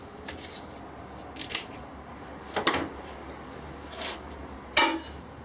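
Scissors snip through holly stems for a holly and snowberry Christmas wreath, giving three or four separate crisp cuts spaced a second or so apart against a quiet room.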